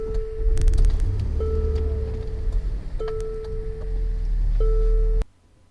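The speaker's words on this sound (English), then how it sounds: "We're going to step on the brake, then push the start and stop button once." Infiniti QX60 starting by push-button with the brake pressed: a series of clear electronic chimes rings over a low, steady engine rumble, and everything cuts off abruptly near the end.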